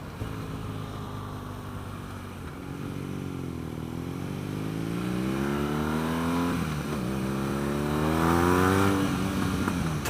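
A 2016 BMW R NineT motorcycle with an Akrapovic exhaust accelerates hard through the gears, its engine note climbing in repeated rising sweeps, loud and close against wind rush, with no talking.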